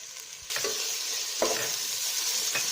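Ginger garlic paste sautéing in ghee for a prawn biryani, a steady close sizzle with a few stirring scrapes against the pan.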